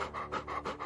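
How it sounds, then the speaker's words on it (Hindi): A dog pants heavily in quick, rhythmic breaths, about three pants within a second, close by and fairly soft, with no voices. "इतना हाँफ क्यों रही है?"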